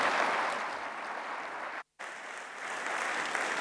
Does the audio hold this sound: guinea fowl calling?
no